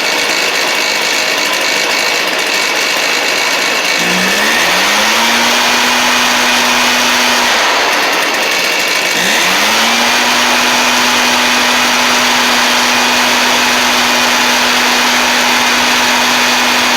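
A Stihl BR420C backpack blower engine fitted with a Hypa carburetor kit runs loudly and close, revving up twice with rising pitch after brief dips, then holding a steady high idle.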